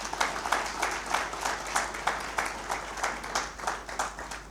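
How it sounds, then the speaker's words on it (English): An audience at a winter school panel session in Victoria Falls claps for the panelists, the applause pulsing in a regular, rhythmic pattern at moderate volume. "may we have a round of applause for our panelists"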